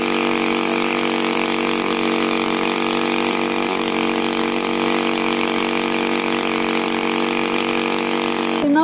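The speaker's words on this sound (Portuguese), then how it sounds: "não tá acelerando nada, a máquina tá ali trabalhando sozinha" A brushcutter engine drives a coupled water pump, running at a steady, unthrottled hum with a buzzing, even drone close by, ending with a brief rise in pitch.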